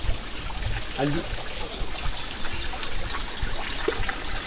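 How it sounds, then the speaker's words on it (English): A lion's head fountain in a tropical garden in Barbados spouts water in a steady splashing trickle that runs under everything, with faint birdsong around it and a voice speaking briefly. "Another little vista there with lion's head spouting water."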